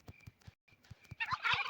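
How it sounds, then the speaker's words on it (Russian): A turkey gobbles in a video game, a quick close series of rattling gobble calls with short pauses, ending in a denser, louder burst of gobbling. "Индюк иди отсюда."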